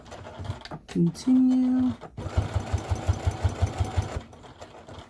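A sewing machine back stitching a simple fabric wallet, running in a steady rapid run of stitches for about two seconds after a brief word and some handling sounds, fairly close and clear.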